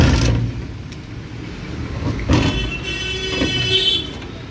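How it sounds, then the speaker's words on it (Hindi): An electric rickshaw driven back and forth gives a steady rattling, grinding mechanical noise with a whine that rises and falls as the accelerator is pressed, continuous and close. "तो देखिए घड़घड़ घड़घड़ की आवाज़ आ रही है।"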